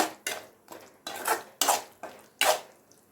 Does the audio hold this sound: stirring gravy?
yes